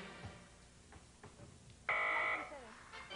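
Amid quiet chatter, a loud electronic buzzer sounds once for about half a second, a harsh steady tone cutting over the voices, on a quiz game show.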